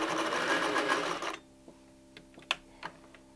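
Sewing machine stitching a hanging dish towel topper, a loud fast whirring rattle for over a second that stops abruptly, followed by a few soft clicks and taps as the fabric is handled.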